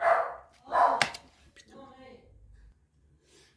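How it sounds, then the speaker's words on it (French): A pet dog barks indoors with a few sharp, close barks at the start, then trails off into softer whimpers, and someone speaks briefly over the sounds. "c'est mon chien qui est en train d'aboyer"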